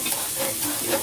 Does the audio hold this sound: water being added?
no